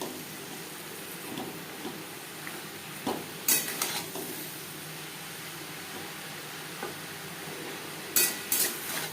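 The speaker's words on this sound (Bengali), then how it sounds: "পেঁয়াজ টমেটোর সাথে চিকিনকে বেশ ভালো করে মিক্সড করে দেবো হাই ফ্লেমে তিন চার মিনিট নাড়াচাড়া করে নেওয়ার পর" Chicken fries with onion and tomato on a high flame, a constant loud sizzle with intermittent scrapes and clinks of a spatula stirring against the pan.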